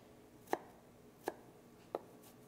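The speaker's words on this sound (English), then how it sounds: "So I'm just chopping this like I would a big onion." Knife chopping through a vegetable as if cutting a big onion, three sharp, separate thuds on a board spaced under a second apart, close and alone.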